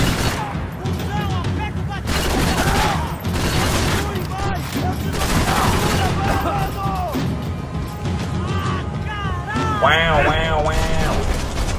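Bursts of gunfire in the video game Max Payne 3 crackle under a steady stream of in-game voices and commentary, with loud clattering shots scattered throughout.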